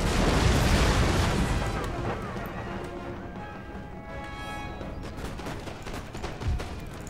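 Artillery and massed gunfire in the video game Empire Total War, a loud dense barrage of booming shots at first that thins to scattered distant reports, with speech mixed in.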